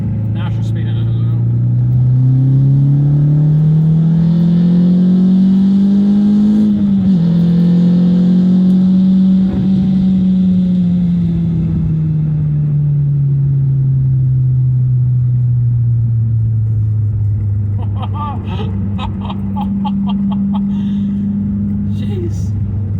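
A Renault Clio RS 172 petrol engine roars steadily and climbs in pitch as it accelerates hard, a loud, close drone rising and falling through the gears.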